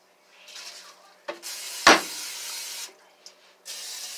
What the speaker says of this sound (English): we have to spray our pans first